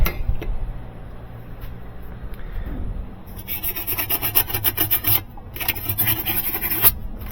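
Hand sanding of a metal shaft with 100 grit sandpaper starts after a quieter stretch as a series of quick, rhythmic, rasping back-and-forth strokes, close and fairly loud.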